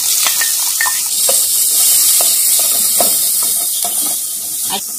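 Chopped onion sizzles in olive oil with garlic in a pot, a steady bright frying hiss with scattered crackles and spatters, close and loud, with no voice over it.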